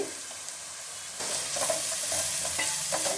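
Ginger garlic paste fries in a pan for Nellore fish curry, giving a steady hiss that jumps to a louder, fuller sizzle partway through, with faint scraping of a spoon stirring, close and without talk.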